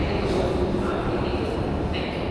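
An overhead train in Athens rumbles past with a continuous low roar and rattling, steady and fairly loud, with no clear voices over it.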